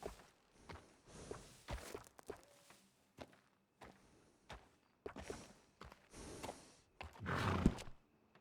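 A horse in the video game Red Dead Redemption 2 gives a neigh, with soft clip-clop hoof steps and snorts in separate bursts around it, fairly faint and with no speech.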